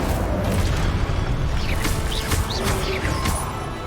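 Hogwarts Legacy Incendio fire spell: a sustained roaring, crackling burst amid dense game effects, with several sharp whooshing accents layered over a loud continuous rumble.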